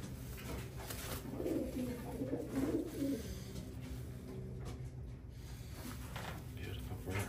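A recessive red racing pigeon coos softly at a loft during an old bird race, low murmuring calls heard under people talking and background noise.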